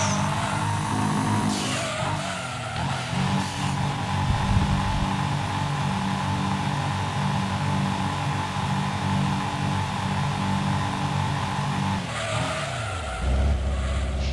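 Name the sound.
race car braking hard in Gran Turismo 2 video game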